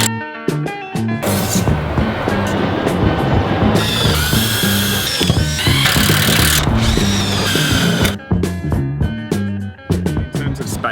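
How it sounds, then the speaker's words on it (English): A power drill drives metal screws into a wall garden panel, whirring loudly in repeated bursts close by, with brief pauses and clicks between screws and a voice speaking underneath. "we'll be using metal screws to attach these"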